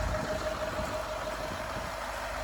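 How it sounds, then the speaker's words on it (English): A 2009 Range Rover Sport TDV8 Autobiography diesel V8 idles smoothly close by, a steady low rumble with a faint even hum and no change in pace. "you can hear it running now. The engine's really nice and smooth."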